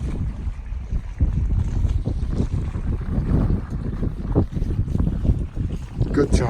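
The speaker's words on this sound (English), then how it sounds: "we're finally on the sail, full sail" A sailboat runs under full sail in a reasonable breeze off the Welsh coast near Conwy, with gusty wind buffeting the microphone and water rushing along the hull close by, engine off.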